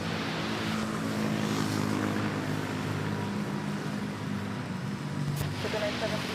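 Airbus A350-900 airliner at Manila Airport, a broad steady engine roar with whine holding loud and constant throughout, with no pauses or breaks.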